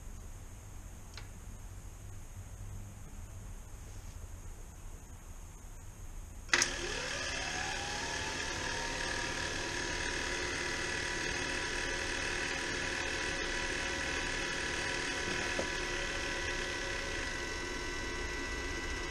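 A South Wind Stewart Warner 23k BTU hydronic heater starts up with a sudden click, after a few seconds of quiet hum, then settles into a steady whirring drone with a high whine and faint ticking that continues to the end.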